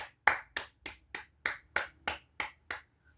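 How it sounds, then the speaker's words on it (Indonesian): A classroom group claps for a student group in an elementary school lesson: about ten sharp, evenly spaced claps in a steady rhythm, close and clear with no talking. "tepuk tangan dulu buat kelompok 2"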